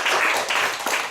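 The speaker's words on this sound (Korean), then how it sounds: "우리 수고한 친구들이 박수 한번 쳐줘야 겠죠" A room of students claps briefly at a church service, a brief burst of dense, steady applause without talk.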